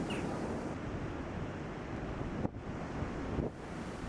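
Loud, constant wind on Morocco's Atlantic coast buffeting the microphone with a deep rumble, briefly dipping twice, sounding close and blustery with a surf-like roar.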